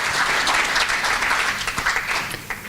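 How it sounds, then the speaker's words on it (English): Audience applause at a Boxing SA convention, a dense round of clapping from a crowd that fills the room and then thins out into scattered claps. "Can we also just again give them a very good round of applause?"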